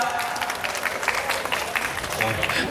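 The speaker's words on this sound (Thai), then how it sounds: "เสียงปรบมือดังๆ ให้กับ SKK Baker ครับ" Applause at a B-boy dance competition awards ceremony in Nakhon Phanom rings out for the winning team; steady dense clapping from a crowd fills the moment, with a voice speaking over it.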